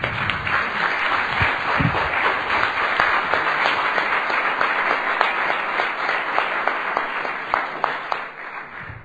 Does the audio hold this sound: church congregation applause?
yes